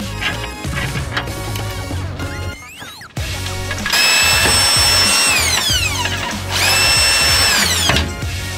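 A power drill whines loudly in bursts, its pitch rising and falling as it spins rear sway bar bolts on a Mk7 Volkswagen GTI, with a short pause in the middle.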